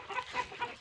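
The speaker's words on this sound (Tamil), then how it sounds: "பாருங்கள் எவ்வளோ கோழி இருக்கு." Hens cluck in a large hen house, three short close clucks in quick succession with no talking.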